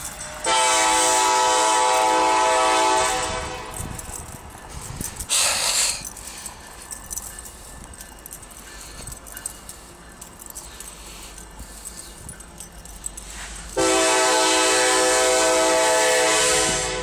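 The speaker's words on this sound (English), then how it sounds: "Making a train video. Ooh, look! BNSF" A BNSF freight train rolls through Effingham, Illinois, its horn blaring loud and close in two long blasts at the start and end, with the rumble and clatter of passing rail cars between them.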